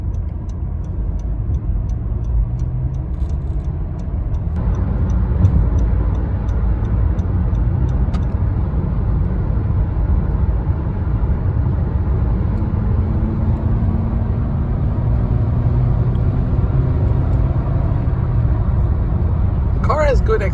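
A Honda car cruises on the freeway, giving a loud, steady low road and engine drone with tire roar throughout and faint ticking at times, with no talk.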